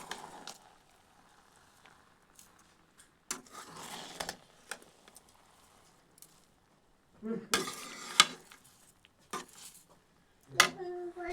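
Basanti pulao of gobindobhog rice with cashews, raisins and sugar stirred in a pan over low flame, heard as intermittent bursts of spoon scraping and clatter with quiet gaps between.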